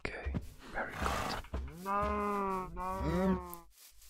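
Cows mooing in a farming video game, several long drawn-out lowing calls one after another, loud and close, after a short stretch of other game noise.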